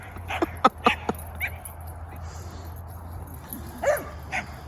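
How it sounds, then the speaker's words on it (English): A neighbor's dog barks and yips in short irregular bursts at moderate distance, with a few sharp barks early and softer whimpering yelps later over quiet background hum. "Then there's the neighbor dog that kind of cheers them on while they run around."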